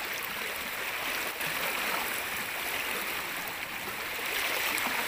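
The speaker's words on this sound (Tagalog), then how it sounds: "Bubulwak talaga. Yung tubig." Water gushes through a forest stream in a steady, unbroken rush, loud and close with no voices over it.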